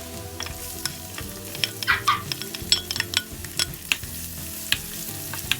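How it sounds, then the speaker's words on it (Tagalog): Two cloves of garlic and onions sautéing in olive oil in a hot frying pan, a steady sizzle broken by repeated scrapes and clinks of a utensil stirring against the pan, close and alone. "Now I'm going to saute the 2 cloves of garlic"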